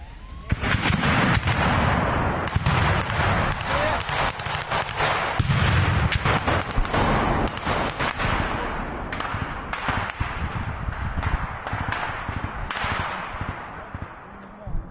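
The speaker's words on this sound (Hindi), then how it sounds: "यूक्रेनी सैनिकों पर बरसाई अंधाधुंध गोलियां, दोनों तरफ से हुई जबरदस्त फायरिंग।" Rapid bursts of gunfire crack continuously, loud and close, with overlapping shots echoing among trees in a forest combat exchange between Russian and Ukrainian forces near Kreminna.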